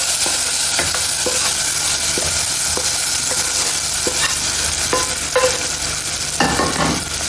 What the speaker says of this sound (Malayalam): ഇത് നന്നായി ഒന്ന് മിക്സ് ചെയ്യണം